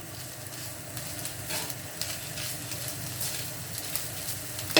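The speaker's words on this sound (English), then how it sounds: "now we have to stir fry it really quickly" Chicken stir-frying for Japanese fried rice, a steady broadband sizzle with scraping stirs in a hot pan, close and continuous with a sharper clatter at the end.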